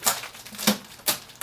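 Packing tape being pulled off the box of a Creality K1 3D printer, three short, sharp ripping bursts spaced about half a second apart, close and moderately loud.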